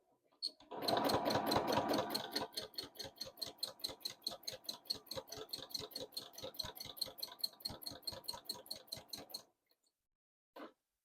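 A domestic sewing machine stitches free-motion quilting in a fast, steady run of needle strokes lasting most of the stretch, with one heavier burst near the start, then stops and gives a short final whir.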